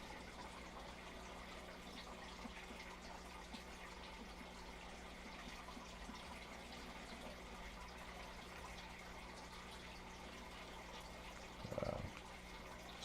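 A waterfall in the survival video game Icarus makes a faint, steady rush of falling water that continues evenly throughout, with one brief louder splash-like swell near the end.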